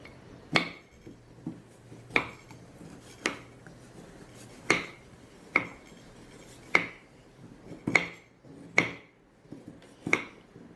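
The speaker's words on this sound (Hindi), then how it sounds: "तो हम अभी गुड़ को काटेंगे।" A knife cuts through a hard lump of jaggery in about nine sharp, evenly spaced chops, each a crisp knock with a ringing edge, close up with no talking.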